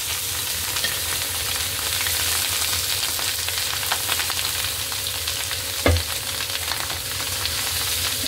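Bagga fish frying in hot oil crackles in a loud, constant sizzle as it gets stirred, with one sharp knock from a utensil partway through and no talking.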